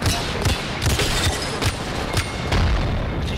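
Gunfire in the video game Apex Legends: a rapid series of sharp, punchy shots with booming low thuds, loud and close, repeating every half second or so across the clip.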